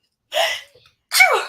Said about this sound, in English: You sound like my wife sneezing.